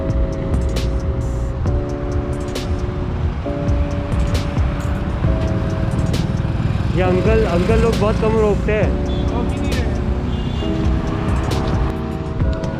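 Roadside traffic heard by a hitchhiker, with cars rushing past in a steady rumble of engines and tyres, loud and close, while a person talks over it.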